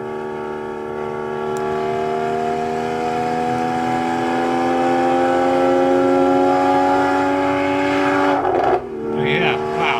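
A Porsche fitted with a PSE sports exhaust, running with a steady engine drone that slowly rises in pitch, ending in a brief sharp change near the end.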